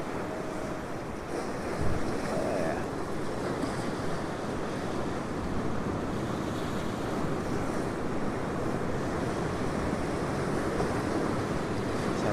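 Continuous roar of ocean surf crashing over rocks at Currumbin Beach, Queensland, a dense, steady wash of whitewater with wind buffeting the microphone and no voices.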